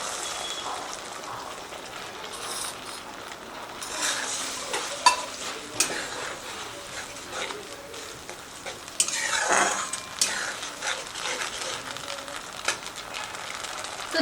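A cornflour slurry goes into a pan of frying veg Manchurian sauce and is stirred through. Sizzling runs steadily throughout, with scraping stirs and soft utensil knocks against the pan, close and moderately loud.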